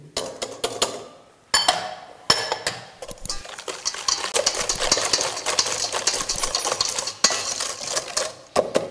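Sugar, egg, lemon zest and oil being mixed with a small spoon for Spanish biscuits, a busy run of scraping and clinking strokes against the bowl, close and fairly loud, with brief pauses early on and no talking.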